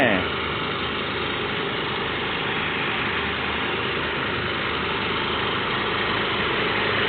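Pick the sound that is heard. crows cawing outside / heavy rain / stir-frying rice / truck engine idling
truck engine idling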